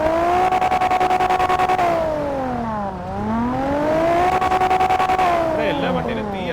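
Car exhaust revving in a video game auto show roleplay, loud close engine climbing and dropping in pitch through repeated rev cycles with a buzzing firing rhythm.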